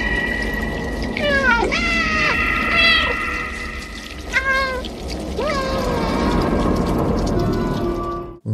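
Cat meowing in the video game Stray, several drawn-out, plaintive meows rising and falling over a constant ambient game background, fairly clear and close.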